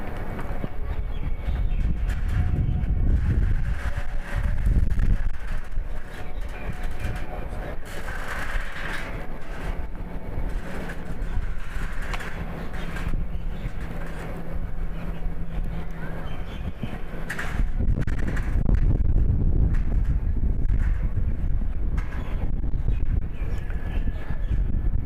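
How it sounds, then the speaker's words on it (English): Strong wind gusting outdoors at an athletics stadium during a javelin throw competition, a steady broadband roar with louder gusts near the start and end, heard alone without talk. "It is very windy over here."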